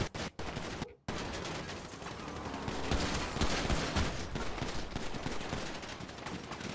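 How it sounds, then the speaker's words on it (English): Sustained automatic video-game gunfire rattles almost continuously after a brief pause near the start, dense volleys blending into a harsh, steady barrage. "We're still under heavy gunfire."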